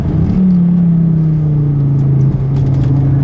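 A sleeper Volvo car accelerates hard on a road, its loud, close engine droning in one sustained rising tone with no voices.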